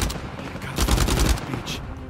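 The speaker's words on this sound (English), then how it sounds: "We're shooting." Rapid bursts of gunfire in the video game Uncharted 4, several loud overlapping shots clustered together in a dense volley, with a player's voice faintly under the noise.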